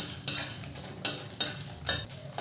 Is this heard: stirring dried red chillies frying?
yes